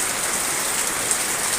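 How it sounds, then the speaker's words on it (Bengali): Light rain falling steadily on a home's front courtyard, a dense, even patter and hiss of drops on the ground that stays close and constant with no voices. "ভালো লাগছে বৃষ্টি, ধীরে ধীরে বৃষ্টি।"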